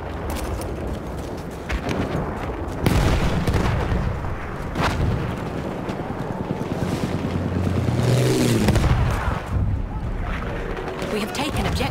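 A thrown bomb bursts amid Battlefield 1 combat, a heavy low boom around the middle of a steady din of gunfire and explosions, with voices heard through the battle noise.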